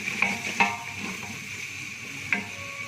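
Masala for Kashmiri mutton rogan josh sautés in a pan with a splash of mutton stock. A soft, steady sizzle runs throughout, with a few sharp clacks of a spatula striking the pan.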